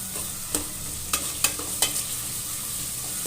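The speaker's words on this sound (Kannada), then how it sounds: "ನೋಡಿ ಒಂದು ಫ್ರೈ ಆಗಲಿ ಈರುಳ್ಳಿ ಹಾಕ್ಸಿದಂಗೆ" Onions frying in a pan for a sprouted green gram sambar with potatoes, a steady sizzle broken by four sharp scrapes of a stirring spoon, close and with no talking.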